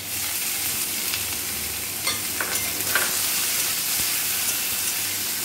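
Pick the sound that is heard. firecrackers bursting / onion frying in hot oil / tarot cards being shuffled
onion frying in hot oil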